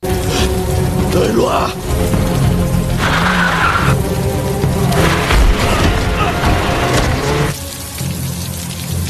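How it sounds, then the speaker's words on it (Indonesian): A car runs a man down in a scene from the Korean gangster film The Gangster, The Cop, The Devil, with loud engine roar, skidding and a heavy impact thud in a dense, busy film mix throughout. "Kang Kyung berhasil kabur dan langsung menabrak Dongsu hingga pingsan"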